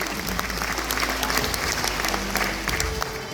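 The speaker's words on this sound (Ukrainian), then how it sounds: "Ще раз дружніми оплесками привітаємо учасників 6-го всеукраїнського свята народного мистецтва Великодня Писанка." Audience applauds participants of a Ukrainian folk art festival celebrating Easter pysanky, a sustained wash of clapping from a crowd over a low background hum.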